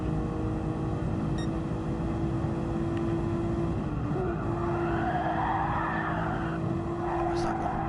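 Race cars roar steadily down the straight at Brands Hatch in the P1RC n300 Sunday League, a continuous engine drone with a brief pitch dip midway and a commentator talking over it.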